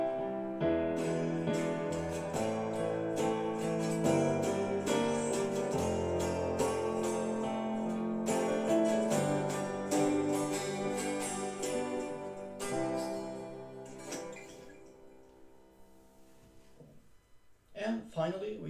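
A guitar plays a chord progression built on C dominant 7th inversions, with strummed and picked chords ringing out clearly, then fading into quieter, sparser notes near the end.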